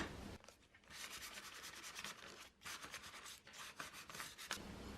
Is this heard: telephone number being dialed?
no